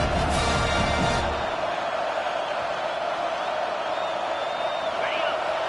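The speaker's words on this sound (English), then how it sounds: "Here comes this home crowd as the defense tries to get off the field on third down." A home crowd at a Kentucky football game roars steadily and loudly as the defense tries for a third-down stop, a dense sustained wall of noise throughout.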